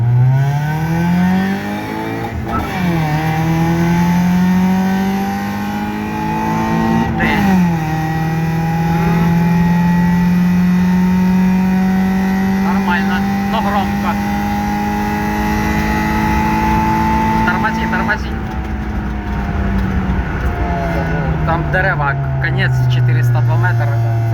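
Turbocharged Lada (Troika) racing against a Ford F150, its engine loud and close as it revs hard and climbs in pitch, dropping sharply at each gear shift before pulling again, with voices talking throughout.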